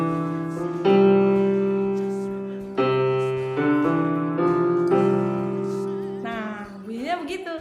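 Electronic keyboard playing a short melody of sustained, chord-like tones, several separate notes with clean onsets at steady volume, ending in a brief rising glide, alone without speech.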